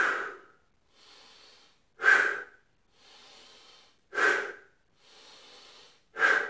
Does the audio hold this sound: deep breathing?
yes